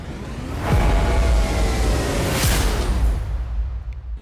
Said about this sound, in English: Some risers, some big epic trailer hits from Keep Force. It sounds like this.